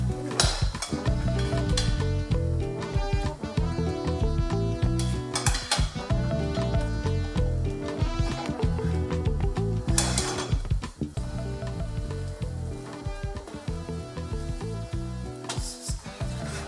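Nigerian jollof rice stirred in a pot, with repeated scraping and clanking of a spoon against the metal over continuous dense sizzling and music, close and busy throughout.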